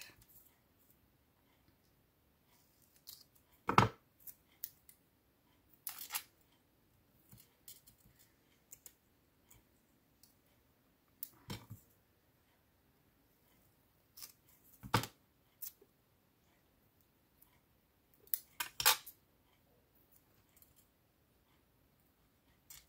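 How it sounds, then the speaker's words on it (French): Scissors trim excess paper in short, separate snips, crisp close cuts scattered across a quiet room with long pauses between them. "on va découper ce qui dépasse"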